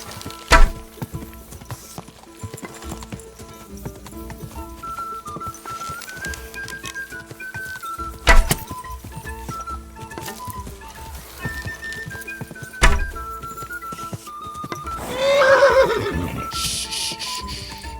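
A horse in Kingdom Come Deliverance 2 whinnies and neighs repeatedly over a steady game music bed, with occasional sharp hoof knocks and a loud, breathy neigh near the end.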